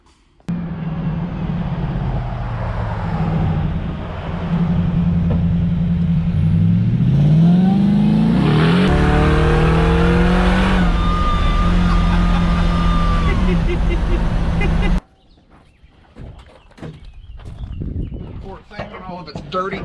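A Coyote-powered Ford F100 farm truck drives along with a deep, steady engine drone that climbs into a strong rev partway through, then holds at higher pitch before cutting off abruptly near the end.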